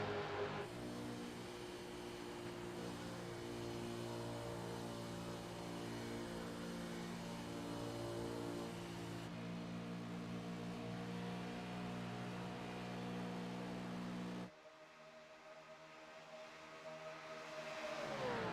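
Onboard engine of the Lime race car lapping Kansas Speedway in iRacing, a loud steady mid-pitched drone with harmonic whine that holds near-constant, then drops sharply as the throttle lifts before building again near the end.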